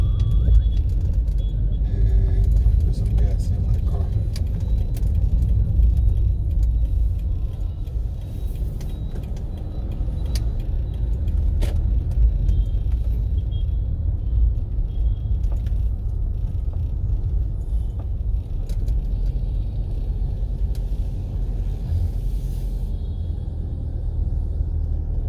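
A car drives through city streets in Kinshasa, its engine and tyres making a continuous low rumble from inside the cabin, steady throughout with a few faint clicks and rattles.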